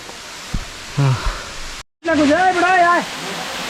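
Water tumbles down a waterfall deep in Rangamati, making a steady close hiss and roar that drops out for a moment, while a voice rises briefly over the noise.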